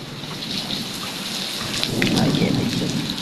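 Heavy rain pours steadily and loudly, with a deep roll of thunder swelling midway through.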